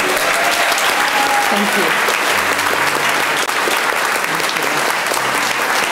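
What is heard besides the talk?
audience applause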